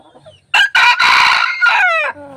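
A jungle fowl rooster crows loudly and close by, one full cock-a-doodle-doo with a rising call and a long drawn-out ending.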